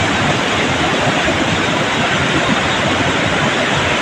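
The Parvati River in the hills near Kasol rushes steadily nearby, a dense, unbroken roar of flowing water with no voices.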